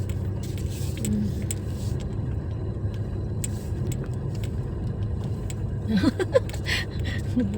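Motorcycles pass steadily along a nearby road, a continuous low engine rumble with a louder rising pass near the end and faint voices in the background.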